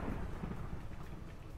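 Thunderstorm in a Minecraft modpack game: a low, continuous rumble of thunder mixed with rain noise, steady and fairly loud for a short stretch with no voices.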